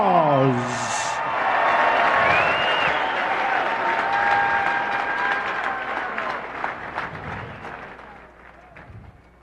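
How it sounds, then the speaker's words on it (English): Crowd applause for two MMA fighters at a Hawaii mixed martial arts event, a broad wash of clapping mixed with some cheering and a whistle, steady then tapering off toward the end. "let's give these two warriors a round of applause"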